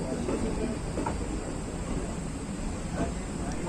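The Chhapra Intercity Express runs on rails between Banaras City and Aunrihar Junction, giving a continuous loud rumbling roar with a steady hiss and occasional clanks throughout.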